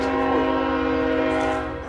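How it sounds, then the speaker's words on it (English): A loaded coal train on the Fostoria rails sounds its horn in one long, loud, steady blast over a low rumble, fading slightly at the end, with no talk. "Joe, there's a load of coal train. It's loaded"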